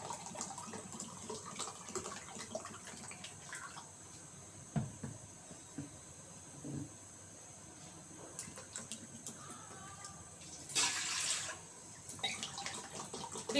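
Water is poured into a pressure cooker of partly cooked rice for mutton biryani, giving faint splashing and trickling in a quiet kitchen, with a louder pouring burst near the end.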